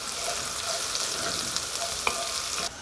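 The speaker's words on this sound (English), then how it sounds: "we'll cook that for just about a minute, just till it starts to get fragrant" Red pepper flakes frying in a pan, a soft, steady sizzle with faint stirring clicks throughout.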